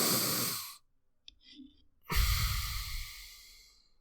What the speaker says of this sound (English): there's not a whole lot of room for air to get in and out of my nose